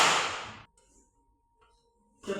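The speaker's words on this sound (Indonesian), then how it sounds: "Kita cukup beri tepuk tangan satu kali" A single sharp hand clap from a group of children in a classroom or Sunday-school gathering, loud and abrupt, followed by near silence and then a second burst at the end.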